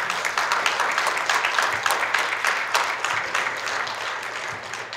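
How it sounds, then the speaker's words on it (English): An audience at an annual menorah lighting claps steadily, a full, sustained round of applause that slowly eases toward the end. "Give her a round of applause."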